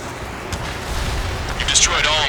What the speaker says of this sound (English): Missile launched.